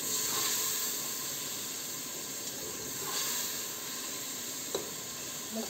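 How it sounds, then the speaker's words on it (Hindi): Rice fries in a pan for Moroccan harira soup, giving a steady broadband sizzle and hiss throughout with a few faint scrapes and clicks of stirring, close and alone with no talk. "इसमें हम तो थोड़ा सा हम राइस का फ्राई करेंगे"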